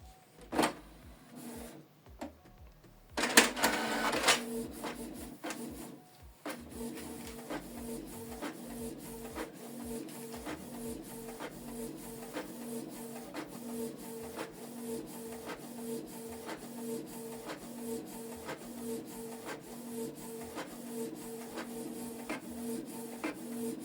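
A Canon PIXMA TS3350 inkjet printer runs a document job, with a few startup clunks and whirs, then a steady, regular mechanical rhythm of print-head passes and paper feed that carries on close by.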